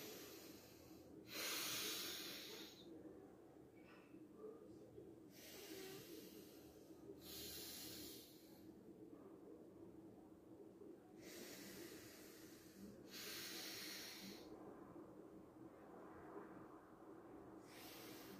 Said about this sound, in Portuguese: Essa respiração, tá, de narina, inspirar por uma narina, soltar pela outra